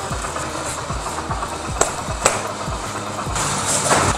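A motorcycle idles while warming up before a Sunday ride, making a steady, close thrum with regular low pulses. A couple of sharp clicks cut through, and the engine note rises slightly near the end.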